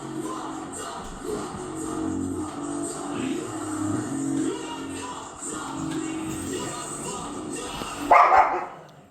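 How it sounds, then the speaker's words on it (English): Several dogs bark at a distance, a muffled, intermittent stream under a steady noisy background, with one louder burst near the end. "Shut the fuck up, you dogs!"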